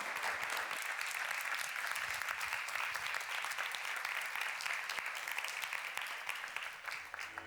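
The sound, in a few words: audience applause for conference speakers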